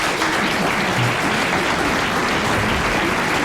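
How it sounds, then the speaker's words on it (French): A studio audience at a French radio comedy show applauds loudly and steadily, a thick, close wash of clapping throughout. "applaudissements et mandat"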